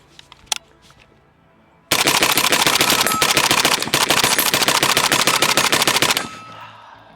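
A PSA 556 Krink rifle fires a long rapid string of shots outdoors, loud and close, after a couple of isolated sharp reports, the burst running for about four seconds before ringing off.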